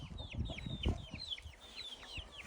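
Chickens, including Australorp hens, cluck outdoors in a farmyard, a quick series of soft, repeated clucks at low volume with faint background noise.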